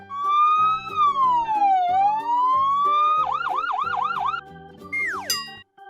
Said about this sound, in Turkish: Heh ambulans da geliyor işte.